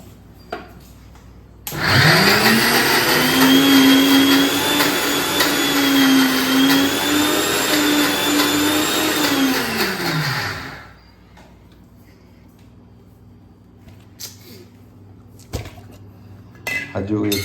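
A mixer grinder whirs loudly as it grinds soaked lentils with a little water into khaman batter, a strong whining motor run of about nine seconds, followed by quieter clinks and handling noises.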